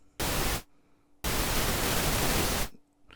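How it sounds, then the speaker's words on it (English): Synthesized pink noise generated in Cubase, two steady broadband hiss bursts, a short one and then a longer sustained one, loud and even with abrupt starts and stops and silence between. "make it pink noise, which means you get pink noise is equal energy in every octave"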